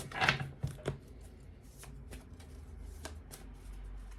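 Tarot cards being shuffled up close: a few quick riffling bursts at the start, then softer handling and light rustling, with no one speaking.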